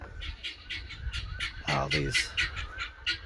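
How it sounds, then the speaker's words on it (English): Guinea fowl and chickens squawk and call in a cluttered, raspy chorus, with a louder cackling burst in the middle; a voice is heard faintly beneath. "We got a bunch of guineas over here and chickens, and they're wanting something"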